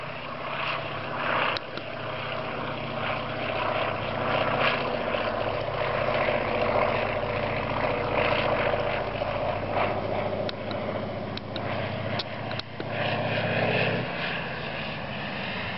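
A propeller aircraft takes off and flies past, a sustained droning engine roar that stays loud for most of the stretch before dropping away near the end.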